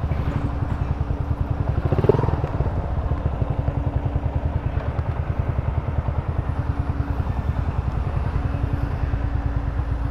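Several motorcycles idle steadily in an outdoor parking area near a waterfall in Los Baños, a continuous close engine rumble with rhythmic pulsing and a brief louder rev or clatter early on.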